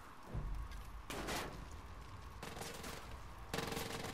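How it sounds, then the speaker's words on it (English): Rapid automatic gunfire from Far Cry 5 strikes the player in several loud, sustained bursts with short breaks between them, dense and close throughout. "Ooh, you've been shot."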